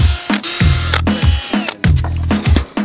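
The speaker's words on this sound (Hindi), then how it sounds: "तो यहाँ पर आप देख सकते हैं कि कुछ नट बोल्ट से जिन्हें कि हमें खोलना होगा।" A power tool unscrewing nuts and bolts on a DJ speaker cabinet holding a 15-inch speaker in wood, with loud repeated bursts of whirring and ratcheting separated by short pauses.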